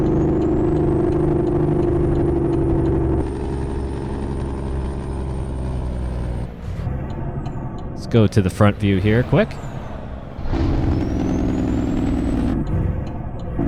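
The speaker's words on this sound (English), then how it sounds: "We're going to use some engine brake here" A Kenworth W900L road train with an N14 engine rumbles in American Truck Simulator, its steady drone broken by a short burst of pulsing engine braking. Someone talks over the sound.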